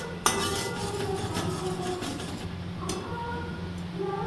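Metal spoon scraping and clinking against a pan while onions fry for an egg korma, with a few sharp knocks and a low sizzling background.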